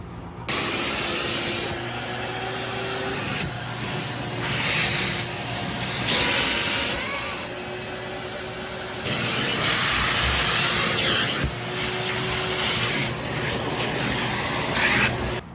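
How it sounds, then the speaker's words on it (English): A vacuum cleaner runs steadily with a loud broadband roar and hiss, its tone shifting as the nozzle moves across a cat tree, no voices. "First, I'm gonna vacuum this cat tree."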